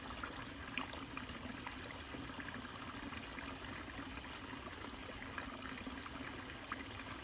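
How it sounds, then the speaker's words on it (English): A small rural creek swollen after heavy rain, flowing under a road: a steady, broadband rush and gurgle of running water, constant and moderately faint, with no voices. "our little creek has filled up with water and going up under the road"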